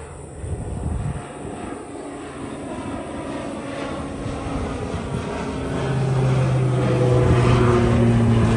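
A low-flying propeller airplane passes overhead during a dirt bike outing, its engine drone steady and fairly loud, swelling slightly nearer toward the end.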